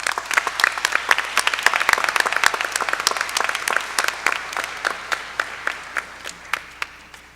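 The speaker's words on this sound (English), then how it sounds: "Graduates, please show your families, educators, and community members your appreciation with a round of applause." Graduation audience applause: dense clapping from a large crowd that holds steady, then thins into scattered claps and fades toward the end.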